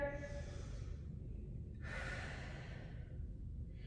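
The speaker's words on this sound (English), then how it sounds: "one more deep inhale and exhale here" Someone takes a deep breath in and lets it out during a floor stretch. The exhale is a soft, close breathy rush, with a faint low hum underneath.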